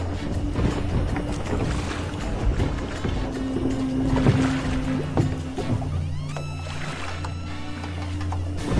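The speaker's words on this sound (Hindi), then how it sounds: "तेज तेज चप्पू चलाने लगा" Boat rowed with oars on a river at night: rhythmic splashing and creaking over a low, steady watery wash, moderately close, with no talk.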